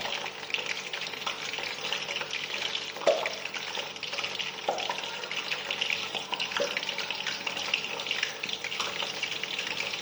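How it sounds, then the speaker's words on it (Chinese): Peanuts deep-frying in hot oil while being gently turned, making a constant dense crackling sizzle throughout, with a few soft clicks from the stirring. "我们油炸的时候啊，要轻轻的翻动它，然后让它就是受热均匀啊"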